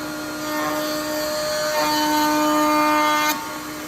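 A router cuts across the end grain of a poplar board, a loud, steady high whine with a sharper, heavier bite through the middle of the pass that drops off near the end.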